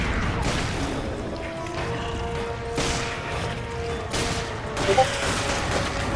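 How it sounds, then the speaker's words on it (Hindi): Bursts of rapid gunfire in Resident Evil 5 crackle against a busy electronic backdrop, with a few sharper impacts near the end. "कसम से शिवा की नो लिमिट गोलियां ही काम आ रही है"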